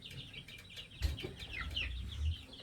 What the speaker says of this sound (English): Lots of roosters though.